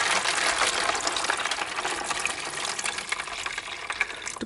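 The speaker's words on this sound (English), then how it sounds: "to pour on some warm water" Warm water pouring steadily over a Dayan 16-axis Hexadecagon twisty puzzle to degrease it, a continuous close hissing splash running throughout with no talk.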